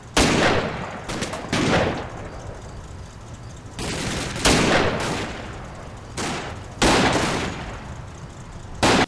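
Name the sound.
sniper duel gunfire in Combat Mission: Red Thunder video game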